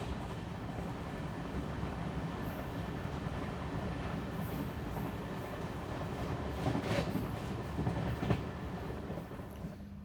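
The Matsyagandha Express, an LHB coach train, runs on the Konkan Railway double-line section between Veer and Roha, giving a steady rumbling roll with rhythmic wheel clatter and occasional sharp rail clicks, heard from inside the carriage.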